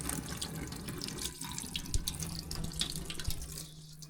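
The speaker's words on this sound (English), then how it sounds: "going to kick on the hot water and see if she starts up" Hot water gushes steadily from a tap just after the water heater is switched on, a continuous close splashing flow with a few small clunks and no talking.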